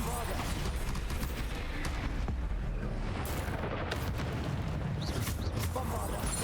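Spell blasts from Hogwarts Legacy, including Bombarder and Depulsor, burst repeatedly as booming, crackling impacts amid continuous loud battle noise, with a voice calling out spell names over the din.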